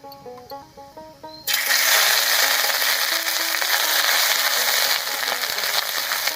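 Dried red chillies, a bay leaf, black cumin and chopped ginger hitting hot oil, bursting into a loud, sudden, continuous crackling sizzle after a few seconds of quieter background sound.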